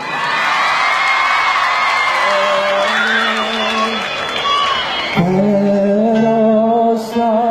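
A crowd at an outdoor evening concert in a town piazza near Palermo cheers and whoops over loud live music, with a voice on the sound system cutting in over the noise.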